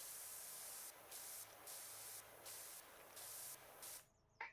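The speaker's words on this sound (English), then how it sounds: "let's just start spraying through" A pressure washer sprays in the video game PowerWash Simulator 2, giving a soft, broad hiss that rises and dips in several short pulses before cutting off near the end.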